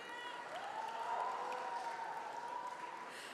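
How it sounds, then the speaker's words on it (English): An audience of girls cheering and clapping at a Harvard MUN India 2022 gathering, a steady crowd roar with a high sustained shout rising above the applause, heard from a middle distance. "So I see the girls cheering"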